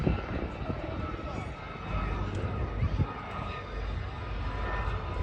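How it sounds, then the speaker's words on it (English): Two aircraft, one a former ETPS test pilot school H2T2 trainer, fly at the Wales Air Show in Swansea, a steady engine drone that stays loud and continuous throughout with crowd noise beneath. "Two aircraft being flown today"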